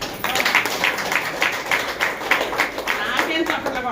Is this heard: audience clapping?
yes